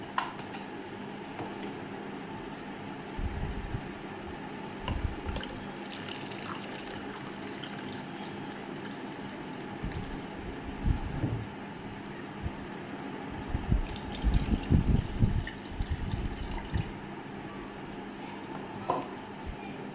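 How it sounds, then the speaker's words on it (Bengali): Cold water, about a cup, poured into a mango smoothie mix with milk, sugar and mango puree; quiet intermittent splashing and gushing bursts, strongest midway and near the end, with faint room noise throughout. "আর 1 কাপ পরিমাণ ঠান্ডা পানি দিয়ে দিচ্ছি"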